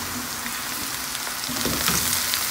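Eggplant hits a hot pan for an achari aloo baingan sabzi, setting off a steady, close, crackling sizzle of frying over medium heat that swells slightly louder toward the end.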